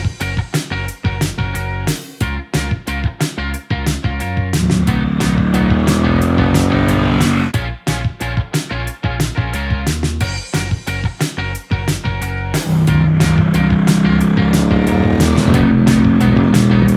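A Triumph Street Cup motorcycle ridden hard, its engine revving up and down through gears with loud, close exhaust roar, repeated throttle blips and rising pitch sweeps as it accelerates.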